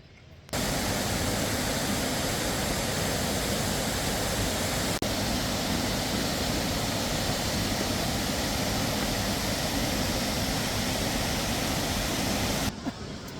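Jiulong waterfall in Luoping, Yunnan, roars as a steady, loud broadband rush of falling water that fills the whole scene without letup.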